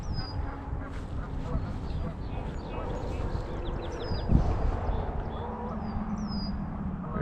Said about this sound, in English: comes a couple Canadian geese after each other